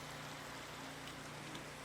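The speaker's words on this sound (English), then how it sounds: "but it's raining" Steady rain falling in the video game Minecraft, a constant broadband hiss with faint patter and no distinct drops, lasting the whole stretch at a low, even level.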